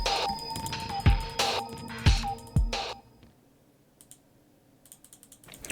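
Mouse buttons clicked by hand at a computer while programming, a few sharp clicks in the first three seconds over faint room noise, then near-quiet with light tapping.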